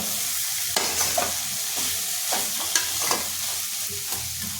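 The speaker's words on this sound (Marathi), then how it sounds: "सोयाबीन छानपैकी तेलात भाजले गेले" Soybean chunks frying in hot oil: a steady, close sizzle with intermittent scraping stirs of a spatula against the pan and no voices.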